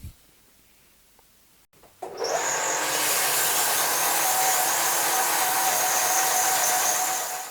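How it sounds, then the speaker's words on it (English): A power sander starts up on a drilled wooden piece after a brief quiet pause, settling into a loud, steady whine with a high tone that holds evenly to the end, alone with no voices. "So I'm going to give it a bit of a sand"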